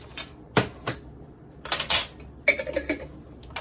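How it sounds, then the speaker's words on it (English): A knife chops a single pickle on a cutting board in a home kitchen, a handful of sharp, close taps and knocks spaced unevenly with brief pauses between them. "1 pickle, so I'm going to cut it up."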